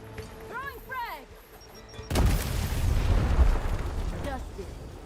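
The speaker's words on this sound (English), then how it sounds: "Throwing frag." A frag grenade goes off in a military video game, a sudden loud blast followed by a long rolling rumble of debris and echo, after brief voice chatter.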